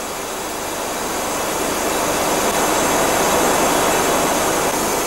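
Engines of an Antonov 124 heavy cargo aircraft in level flight roar as a loud, steady broadband rush heard from inside the cockpit, continuous and unbroken without talk.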